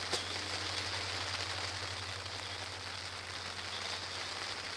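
Rain falls steadily during a carp fishing session at Todber Manor's Little Hayes lake in June, a constant soft hiss with a low hum beneath, no voices heard.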